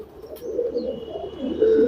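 Allahabadi pigeons coo softly and repeatedly at close range, a low burbling murmur with a few faint chirps above it.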